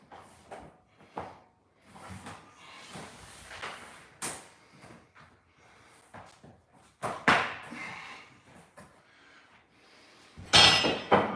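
Floor panels tapped into place with a wood block during flooring installation, scattered sharp knocks and clicks at irregular intervals, close and fairly loud, with a louder cluster of hits near the end.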